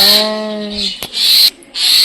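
Baby myna birds scream in loud, shrill, sustained bursts close by, with brief pauses between the cries and no voices.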